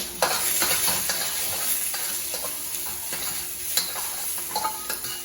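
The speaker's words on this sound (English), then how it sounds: "We're going to see that we got quite a bit of sizzle going on." Food sizzles and crackles in a hot pan, with occasional clicks and scrapes from stirring, fairly quiet and steady throughout.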